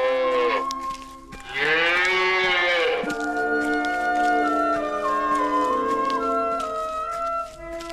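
A single cow moos loudly several times over about eight seconds, the long lowing calls rising and falling, with no talk over them, as a sound effect in a read-aloud telling of Jack and the Beanstalk.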